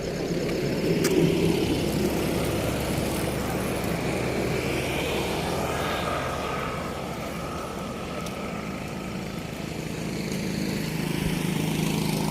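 A vehicle engine drones steadily and loudly throughout as the vehicle starts to drive off, with a constant mechanical rumble and no clear speech.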